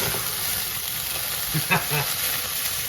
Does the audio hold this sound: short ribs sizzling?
yes